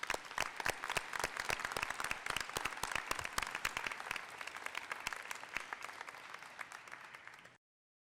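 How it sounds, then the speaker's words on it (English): A university graduation audience applauds its graduates with loud, dense clapping that carries sharp individual claps. It stays steady for about seven seconds and then cuts off abruptly into silence. "Let's give them a round of applause"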